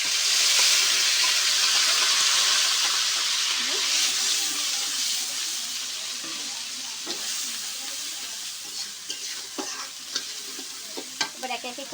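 Ground spice paste hits hot oil in a pan and sizzles with a steady, bright hiss that slowly eases, while scattered clicks and scrapes of stirring pop through near the end.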